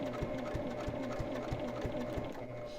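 A sewing machine stitches through a glitter vinyl project bag, its needle thumping in a fast, even rhythm close by, running steadily with no pause.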